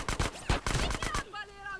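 Gunfire in the video game GTA: San Andreas: a rapid series of loud, sharp shots over about a second, followed by a brief tonal voice-like sound.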